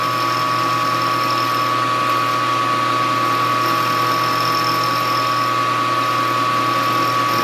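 Electric motor driving a cam follower test rig, a loud, steady mechanical hum with a constant tonal whine and fine rhythmic rattle, running without change throughout and with no talk over it.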